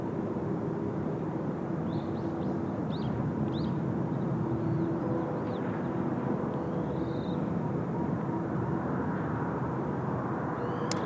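A Giant 9420 aircraft takes off at Incheon Airport, its steady broadband jet roar filling the scene continuously and loudly at a distance, with faint chirps over it.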